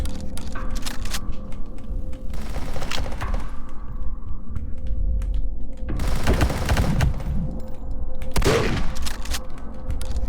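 Chain-gun fire from enemy chain gunners strafing in a Doom-like shooter game demo, heard as several loud rapid bursts rattling over a steady background of game noise.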